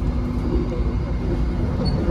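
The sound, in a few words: KA Malabar economy train riding over rail switches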